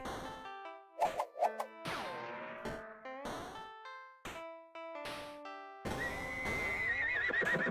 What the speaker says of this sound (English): The horse is running off.